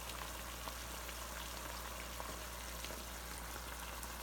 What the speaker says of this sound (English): So now we want it to simmer with the tomatoes